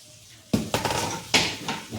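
A metal lid lifted off a pot of okra simmering on low heat, two sharp clanks of metal on metal with a brief rattle between, close and loud, no voices.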